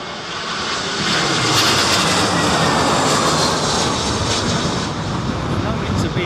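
Aircraft engines roar steadily as planes land at Heathrow airport during Storm Isha, a loud continuous broadband rush mixed with gusting wind, with faint voices beneath.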